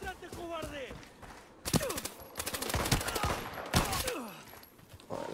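Rapid bursts of gunfire from bots in the video game Arena Breakout, sharp crackling volleys repeating over several seconds, with a voice talking briefly at the start.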